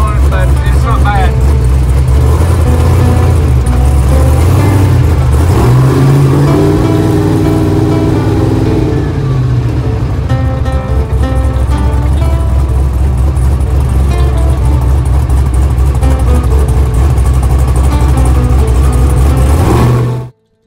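A CJ8 Jeep Scrambler driving up a road, its engine droning loud and steady from inside the cab, pitch rising and falling as it accelerates, with constant road rumble.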